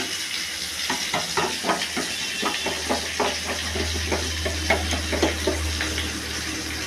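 Spice paste being stirred in a hot, sizzling pan for Bengali cooking, with steady frying hiss and repeated scraping strokes of the spoon throughout, close and fairly loud, no talking.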